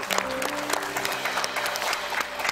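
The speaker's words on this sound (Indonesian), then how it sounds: "Tepuk tangan buat Denny sekali lagi" Studio audience applauding on a TV game show, a steady wash of clapping throughout with crowd noise and some faint voices underneath.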